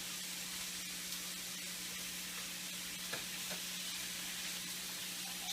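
Ingredients for mole de olla, a Mexico City beef soup, fry in oil in a pan with a steady, dense sizzle and hiss that runs unbroken throughout, close and fairly loud, with a few faint clinks of stirring and no voices.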